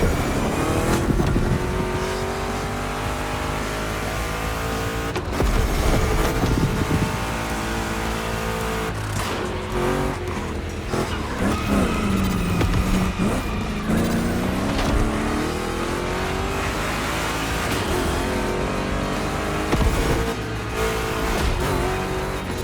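Two Chevrolet big-block race cars in The Crew Motorfest gymkhana event roar through sustained engine revving with rising and falling pitch sweeps, loud and close, as they accelerate and turn.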